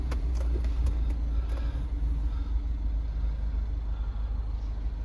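A petrol 1.6 MINI Cooper S with a six-speed manual gearbox, about 51,700 miles on it, runs with a steady low engine rumble close by, and faint clicks come through near the start.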